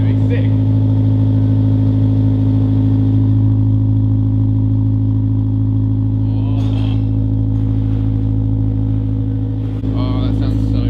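A Honda Civic Type R EP3 with a full Spoon exhaust idles with a loud, steady low rumble and layered engine drone, while people talk over it in bursts.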